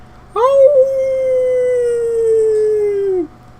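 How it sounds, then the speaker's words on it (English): A single long wolf howl plays as a sound effect during a Dungeons and Dragons tabletop session. It rises sharply, holds a steady wavering tone for nearly three seconds, then drops off. The howl is loud and close, alone over a quiet background. "another black wolf answering the howl"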